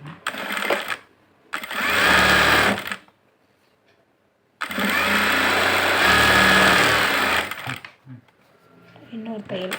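A sewing machine stitches a blouse in two bursts of steady whirring, one short and one longer, with a quiet pause between them and a voice talking in the gaps around the stitching.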